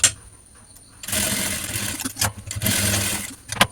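A sewing machine stitching a canvas piece runs in two loud whirring bursts after a quiet start, with small clicks between and at the end, no talk.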